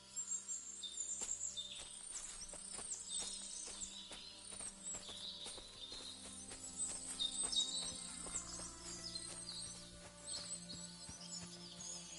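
Horses moving about a village in the video game Kingdom Come Deliverance 2, with hoof clip-clops and an occasional whinny amid steady birdsong and ambient village noise.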